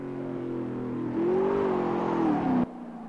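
A car accelerates in fourth gear along a track, engine note rising in pitch into a loud whine before cutting off sharply near the end.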